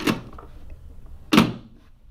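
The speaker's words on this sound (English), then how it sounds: "that's the basic door sound" A small foley prop door in a shoebox-like device is swung shut twice, each a sharp, close thunk with a short woody rattle, about a second and a quarter apart, with quiet between.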